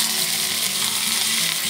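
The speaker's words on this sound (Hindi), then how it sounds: "इसमें इमली का पल्प डाल के इसको तड़का लगा देती हूँ" Steady, loud sizzling of tempering spices in hot oil for sambar, with a dense crackle, continuous throughout with no voices.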